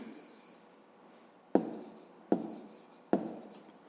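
Handwriting on paper with a pen, heard close and quiet: scratchy strokes and three distinct taps or marks, with no talk.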